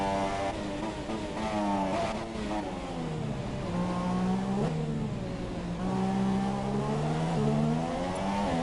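A Ferrari-powered Red Bull Formula 1 car at Spa in F1 2017, its engine screaming loud and close, pitch climbing through gears and dipping on downshifts, with no talk over it.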